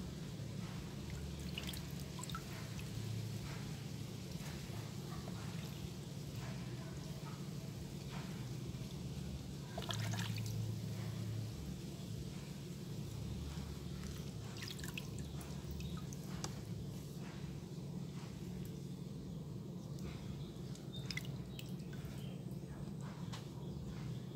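Water drips steadily off a freshly watered air plant set upside down to drain, with scattered small drops and light splashes against a constant low background hum.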